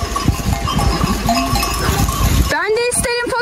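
A goat at a farm pasture gives a loud, close, wavering bleat near the end, following a stretch of busy outdoor background noise with other livestock sounds.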